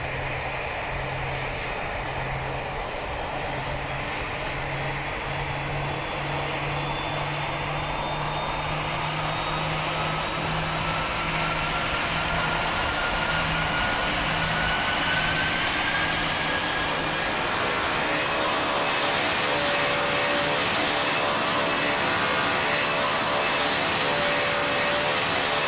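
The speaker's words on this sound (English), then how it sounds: "We here on runway. Now we have to take off." A Boeing 737 in the Roblox flight game PTFS roars with steady, loud jet engine noise through its takeoff run, holding a constant broadband drone with faint tones rising in pitch, and no voices.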